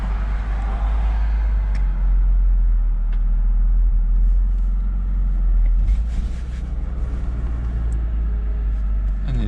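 A crashed Porsche Boxster 986 creeps forward in first gear, its engine a low, steady rumble close by, with scattered clicks and knocks and a slight dip in level near the end.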